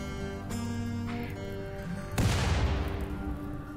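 Gunfire in the game Rimworld: a few sharp synthetic shot sounds over sustained tonal game music, with a final louder blast that rings out and decays.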